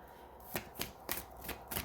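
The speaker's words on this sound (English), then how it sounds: "I always kind of forget to shuffle on camera nowadays." Tarot cards are shuffled up close in a quiet room, giving five or six crisp riffling snaps at irregular intervals over a faint background hiss.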